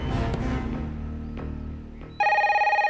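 A telephone in a Hindi film scene bursts into a loud, steady electronic ring near the end, cutting in after a swell of background music.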